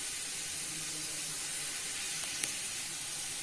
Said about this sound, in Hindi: अब प्याज फ्राई हो चुकी है